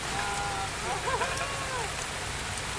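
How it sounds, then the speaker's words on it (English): Steady rain pours onto surfaces at an off-grid island homestead, a dense continuous hiss that stays even and fairly loud throughout with no pauses. "we finally got the rain we were praying for."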